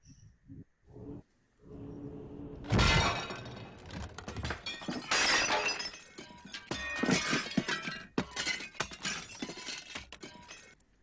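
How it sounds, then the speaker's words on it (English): Plates, saucers and other fragile kitchenware are pulled from cabinets and hurled onto a kitchen floor in a live stage show. A few soft knocks come first, then a long run of loud, close crashes and clattering shards, one after another. "From the kitchen, we hear shattering as Maeve pulls plates, saucers, anything fragile from the kitchen cabinets and begins to toss them onto the floor"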